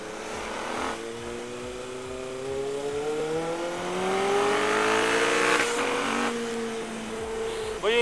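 A Kawasaki Z900 inline-four motorcycle revs loudly and close by, its exhaust rising and falling through several throttle blips with a harsh, crackling edge; people talk faintly underneath.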